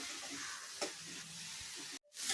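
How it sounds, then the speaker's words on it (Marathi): Vegetable momo stuffing with black pepper sautéing in a pan, a steady soft sizzle with occasional stirring scrapes, close by and alone, briefly cutting out just before the end. "याला पूर्णपणे नाही शिजवायचं फक्त परतून घ्यायचं एक दोन तीन मिनटासाठी"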